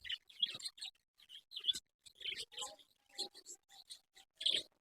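Budgerigars in a breeding setup chirp and tweet in quick, bright bursts with short gaps, close and fairly faint, with no talking.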